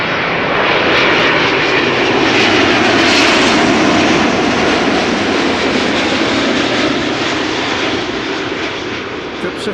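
KLM Boeing 777-200 jet arriving at Schiphol Airport, a loud, steady roar of engines that holds broadband and powerful throughout, close by with no pause.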